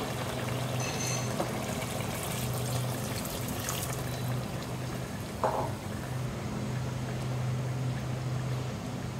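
A small amount of water is poured into a pot of rohu fish-head and bottle gourd curry, a faint, thin trickle and splash against a soft steady background hiss.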